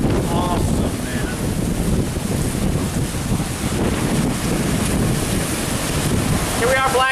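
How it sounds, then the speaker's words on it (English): Strong hurricane wind gusts from Hurricane Hermine batter the microphone on the Florida coast near St. Marks, a loud, continuous roar with surging gusts, surf noise underneath and a brief voice near the end. "Oh my gosh, big wind gust."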